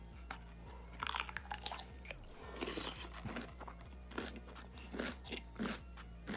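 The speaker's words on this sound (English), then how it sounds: "stop munching" Someone munches and chews food loudly and close up, a steady run of wet crunching bites with no talking.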